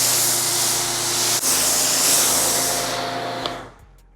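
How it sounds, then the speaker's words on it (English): Foam sprayer blasting Yum Reset acid shampoo onto a car panel, a loud, steady broadband hiss that runs for about three and a half seconds before cutting off. "what I'm going to do is foam on Reset on the panel"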